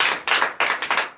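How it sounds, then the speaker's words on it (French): A congregation at a Friday night deliverance prayer service in Comè, Benin, clapping in quick bursts of rhythmic claps separated by brief pauses, close and loud. "Donnez l'acclamation au Seigneur."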